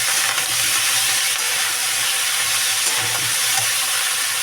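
Vegetables sizzle and fry steadily in a pan for a winter vegetable curry with rohu fish, a dense continuous hiss with faint stirring knocks underneath, no talking.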